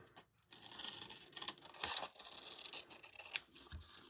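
Close, sharp snips and rustling of scissors cutting embroidery thread, a few crisp bursts with quiet gaps, faint and nearby.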